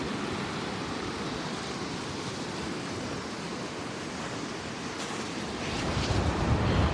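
Surf breaks steadily on a sandy beach while an offshore wind rushes across the microphone, a broad continuous roar that swells slightly louder near the end, with no talk.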